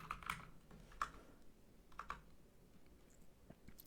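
Faint, close clicks of typing on a computer keyboard, a few scattered keystrokes and short pairs of taps with gaps between them in an otherwise quiet room.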